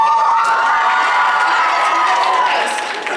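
A convention audience at Broadwaycon claps and cheers loudly for Connecticut, a dense continuous wash of applause and shouts that tapers slightly at the end.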